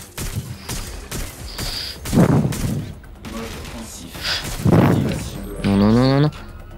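Gunfire in Watch Dogs Legion: a string of sharp shots spaced unevenly across several seconds, some with broader booming bursts, while someone talks in between and a tonal whirring effect rises near the end.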